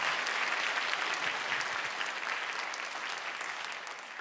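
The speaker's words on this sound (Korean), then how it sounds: "다시 한번 우리 권사님들 박수 한번 보내주시기 바랍니다." A church congregation at a Friday prayer service applauds, a thick, continuous wall of clapping that stays strong throughout before easing slightly at the close.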